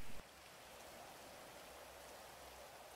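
Steady rain falls in a role-play video game, an even, soft hiss of drops that holds constant throughout after a brief louder sound at the start, with no talking.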